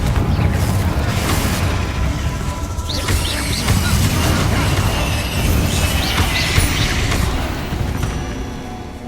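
A Confringo blasting spell in Hogwarts Legacy sets off a loud, sustained rumbling explosion with crackling debris, layered over dense game effects and tones that keep going for several seconds.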